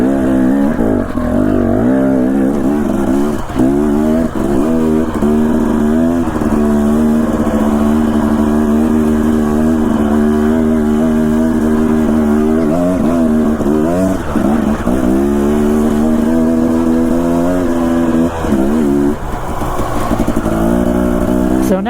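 A Husqvarna two-stroke enduro dirt bike rides mountain trails in Idaho, its engine buzzing loudly and steadily up close throughout, with repeated rises and dips in revs as the rider works the throttle; no talking.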